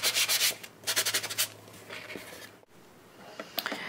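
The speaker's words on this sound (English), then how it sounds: "I've sanded all the edges, and I think it's ready to go." Edges of a Mod Podge clipboard are rubbed with sandpaper in quick rhythmic strokes, a close, bright scratching that comes in two bursts before fading to lighter scrapes and handling sounds.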